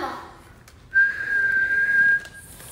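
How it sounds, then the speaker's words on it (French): A child whistles a single steady, slightly wavering note for about a second, close and clear, after a brief quiet moment. "Montre à maman comment tu siffles, montre-moi."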